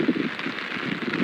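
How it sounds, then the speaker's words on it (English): Rain falls steadily outdoors during a severe October storm in Houston, a dense, even hiss of drops on surfaces, with no voices. "the rain and the wind and how much water there was"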